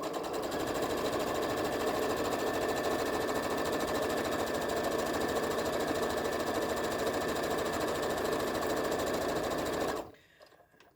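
A sewing machine stitches a tote bag in a steady, fast mechanical whirring and rattling run lasting about ten seconds, close and even, before stopping abruptly.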